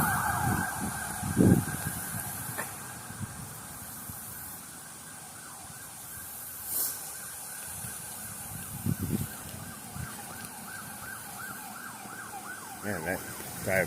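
An emergency vehicle siren wails nearby, its rising and falling tones heard faintly and steadily over outdoor ambience, with some bumps and handling noise close to the microphone.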